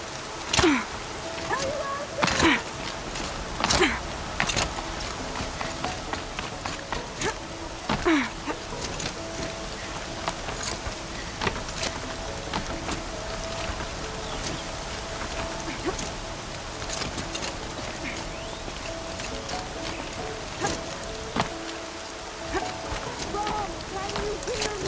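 Heavy rain in the video game Horizon Zero Dawn on PS5: a steady wash of rainfall runs throughout with sharp scattered taps and impacts on top, while voices speak over it now and then.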